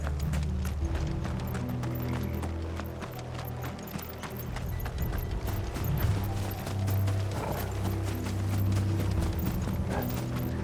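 Horse hooves clip-clop steadily in Final Fantasy XVI, a continuous rhythmic trot of several horses under a low droning music score, with no talking.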